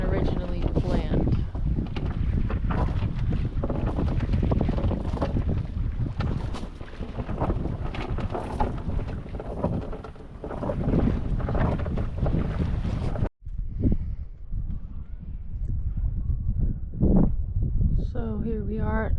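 A sailboat under way and tacking back out at sea, with wind buffeting the microphone and water rushing past the hull, voices talking over it, then a brief drop before the wind and water return.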